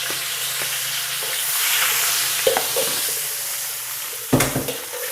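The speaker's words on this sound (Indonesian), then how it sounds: "ini kita goreng dulu ikan bilisnya." Anchovies (ikan bilis) fry in a pan with a steady, loud sizzle and hiss, broken by a few clanks of a utensil against the pan and a sharp knock near the end, with no talking.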